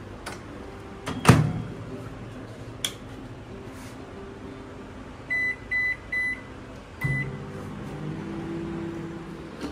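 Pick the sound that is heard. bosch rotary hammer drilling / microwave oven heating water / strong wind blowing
microwave oven heating water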